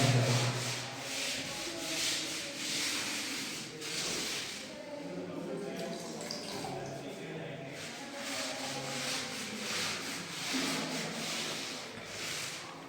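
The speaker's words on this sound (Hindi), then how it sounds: "320 नंबर पेपर के साथ सैंडिंग हो गया" Wood sanded by hand with 320 grit sandpaper, shown as continuous rhythmic rubbing strokes that swell and fade in repeated passes, close and moderately loud.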